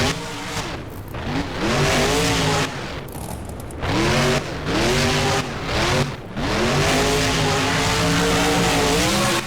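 A Monster Mutt monster truck in the BeamNG driving game roars in loud, sustained engine bursts that rise and fall with throttle, broken by brief drops and rough skidding sounds.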